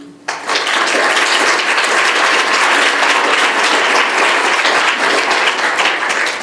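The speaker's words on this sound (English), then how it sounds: "maybe we could just have one final round of applause for today's speakers" Conference audience applauds its speakers in a dense, steady round of clapping that begins abruptly and holds loud and even across the whole stretch, with no voices on top.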